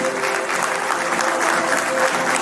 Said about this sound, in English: he is deserving a standing ovation